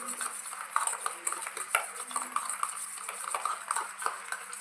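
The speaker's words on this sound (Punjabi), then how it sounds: "ਇਹਨੂੰ ਆਪਾਂ ਚੰਗੀ ਤਰ੍ਹਾਂ ਕਰਾਂਗੇ ਮਿਕਸ ਇਹਦੇ ਇੱਕ ਆਪਾਂ ਪੇਸਟ ਬਣਾ ਲਾਂਗੇ ਮਿਕਸ ਕਰਕੇ ਚੰਗੀ ਤਰ੍ਹਾਂ ਇਹਨੂੰ" A stain-removal paste for lifting transferred dye from clothes, stirred steadily in a bowl: continuous close scraping and rattling of a metal utensil against the bowl, with small irregular knocks throughout and no talk.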